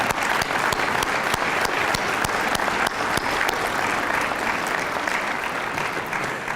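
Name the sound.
applause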